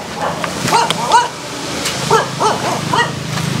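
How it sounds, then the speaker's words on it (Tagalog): A dog barks several times in short bursts and whimpers between them, fairly close and distinct, outdoors near a house with faint background noise and no talk over it. "Ay, may aso."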